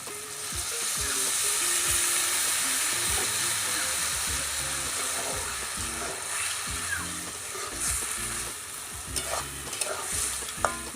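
Dried fish curry in a pan, stirred after water goes in: a loud continuous sizzle and bubbling under repeated rhythmic scrapes and knocks of the spoon, close up with no voices.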